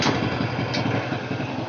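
Old Honda Supra motorcycle engine idling steadily nearby after carburetor cleaning, a close, even mid-pitched putter with a rhythmic exhaust beat and no talk.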